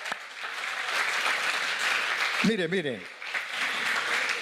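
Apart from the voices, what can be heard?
applause for the Lord in a church congregation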